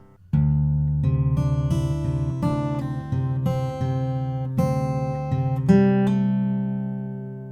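Fingerpicked acoustic guitar playing the second line of tab, a steady stream of plucked notes over ringing bass strings, close and clear, ending on a sustained let-ring chord.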